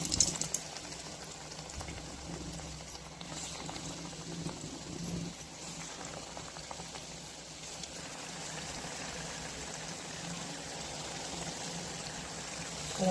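Potato bhaji fry in hot oil with a continuous, bubbling hiss that stays even and moderately loud from start to finish, with no voices over it.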